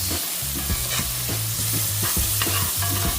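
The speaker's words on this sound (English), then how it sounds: "the onion is slowly cooking there" Onion fries in a steel skillet with a dense, steady sizzle, while a utensil stirs and scrapes the pan in regular strokes, close and loud.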